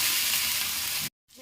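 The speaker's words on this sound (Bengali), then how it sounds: "এবারে দিয়ে দেবো আদা রসুন কাঁচা লঙ্কা বাটা।" Ginger, garlic and green chili paste hits a hot pan in a home kitchen, giving a loud, close, crackling sizzle that lasts about a second, cuts out briefly, then resumes more quietly.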